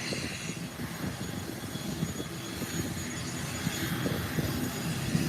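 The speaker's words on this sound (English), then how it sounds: "there goes the ATR hitting the runway now" An ATR turboprop airliner touches down on the runway at Howard Hamilton International Airport, a steady broadband engine roar with low rumble holding at moderate distance throughout, no voices.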